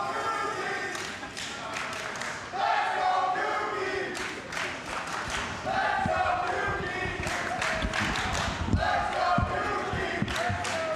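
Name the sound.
crowd cheering at Tetris championship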